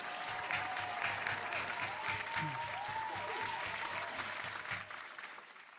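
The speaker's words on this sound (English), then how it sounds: "I'm doing one more round of applause." Studio-style audience applause, a steady dense clapping that runs the whole time with light crowd noise beneath, fading slightly at the end.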